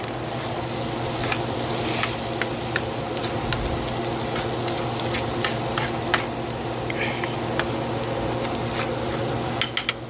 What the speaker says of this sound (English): Let them just sizzle.